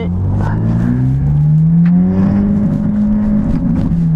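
Ferrari 458 Italia with a 4.5-litre V8 and a Quicksilver exhaust, heard from inside the car as the engine pulls steadily and revs climb, a loud continuous rising drone with no talking.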